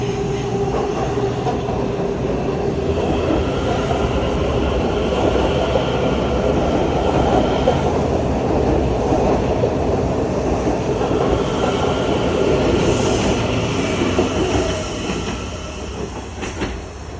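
A six-car non-revenue metro subway train rumbles past steadily with a continuous rolling roar and faint wheel clatter, easing off slightly toward the end.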